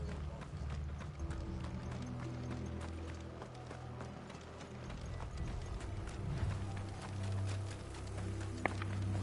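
Horse hooves clip-clop in the Final Fantasy 16 video game, a steady rhythmic trot of several horses over a low rumbling game soundscape with faint mechanical clicks, continuing at a moderate level throughout.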